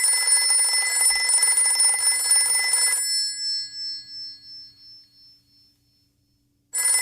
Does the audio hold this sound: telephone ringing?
yes